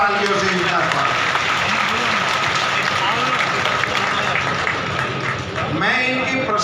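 A large crowd of farmers at a rally in Barmer gives a loud, dense, continuous round of applause to welcome the local MP, with cheers and voices mixed into the clapping.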